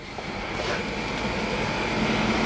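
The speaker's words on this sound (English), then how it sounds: "you should be able to hear the compressor I think in the background. It's just a little pancake compressor" A small pancake air compressor runs steadily in the background beside a wet-bag mushroom substrate filling machine, giving a continuous, even motor drone with no breaks.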